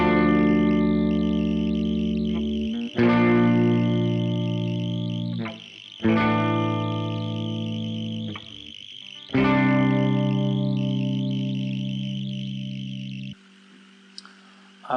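Clean electric guitar plays slow sustained chords, each struck and left ringing for a few seconds, with a shimmering chorus-like effect and light echo.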